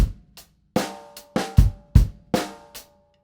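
A drum groove on a kit: snare and bass drum hits fall in a steady rock pattern, each stroke close and punchy with a ringing decay, with a softer ghost note between the main beats.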